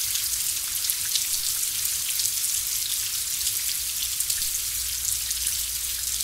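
Heavy tropical rain pours steadily by the Sarapiqui River in Costa Rica, a dense, even hiss of countless drops striking surfaces, constant and close with no voices.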